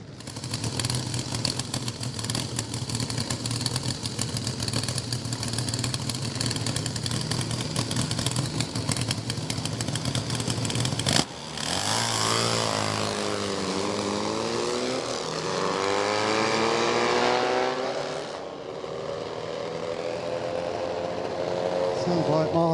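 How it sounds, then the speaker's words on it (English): Drag racing motorcycle engine running with a slight misfire at a drag strip, a steady loud engine roar that cuts off sharply, followed by another engine revving and rising in pitch, with speech in the background. "Sounds like Martin's engine just missing a little bit."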